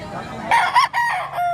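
A Henny bulik rooster crows once at close range, a loud, harmonic call rising and breaking into several segments before trailing off, with faint background noise from a poultry market.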